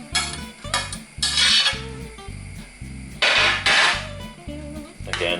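Spinach being stirred into a pot of chicken and sweetcorn soup, a spoon scraping and knocking against the pot in a steady repeated rhythm, close and fairly loud with no voices.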